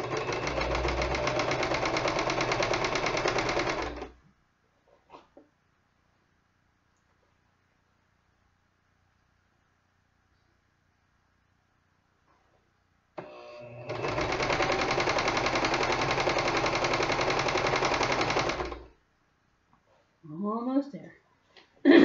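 An electric sewing machine stitches a reversible Christmas tree skirt in two long, steady runs of rapid buzzing separated by quiet, with a few small handling noises after.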